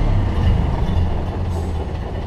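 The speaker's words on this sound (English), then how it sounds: "Give a little acceleration at the bottom here." A Ford Model A engine accelerating, giving a dense, steady low rumble with a rough mechanical texture that stays loud and even throughout without a clear rise in pitch.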